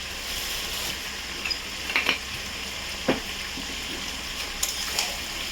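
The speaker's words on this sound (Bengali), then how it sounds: "নাড়াচাড়া করবো।" Chili powder being stirred in a frying pan while making a pickle, a soft steady sizzle broken by several quick scraping strokes of the spatula, close and clear with no talking.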